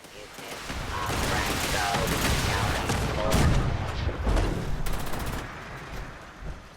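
Artillery fire in Fallout 76: a dense, continuous barrage of booms and crackling shots rolls on for several seconds, loud and close.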